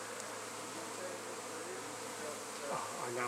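Honey bees buzzing steadily at a beehive transfer, as comb is moved into a nuc box at an engine museum; a continuous close hum with a few louder passes near the end.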